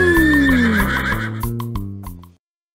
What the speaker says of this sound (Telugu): చల్ చల్ గుర్రం చలాకి గుర్రం